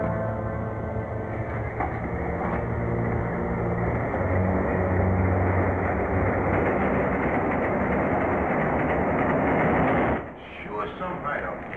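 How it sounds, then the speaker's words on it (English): A train approaching, rumbling loudly and steadily close by, a continuous roar with faint clatter that cuts off abruptly near the end. "There's a train coming."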